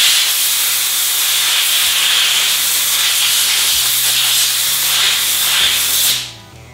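Compressed air blasts steadily in a loud, close hiss, blowing metal shavings off magnetic welding squares for about six seconds before cutting off abruptly.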